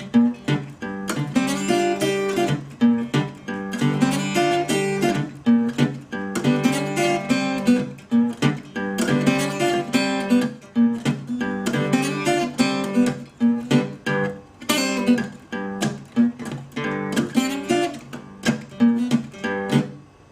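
Acoustic guitar playing the break from a song, a Delta blues riff of steady, rhythmic picked notes and licks going back and forth, close and clear with no voice.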